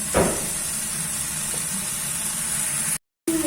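A steady, soft sizzle of onion frying in oil over low heat, continuous and close, broken by a brief moment of silence near the end.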